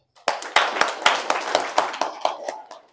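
Audience at a fundraising harambee for a youth party office claps in a quick, fairly regular run of sharp, close claps that thin out after about two seconds, with faint voices underneath.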